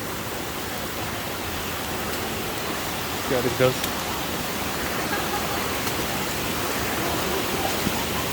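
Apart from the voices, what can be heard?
strong river current rushing during river crossing in Dominica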